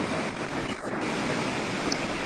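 Sea waves wash onto a beach in a steady, unbroken roar of surf, with wind buffeting the microphone throughout and no talking.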